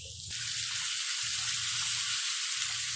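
Chopped onions and green chillies hitting hot oil, a sudden loud sizzle that starts abruptly and keeps hissing steadily and close up, with faint background music.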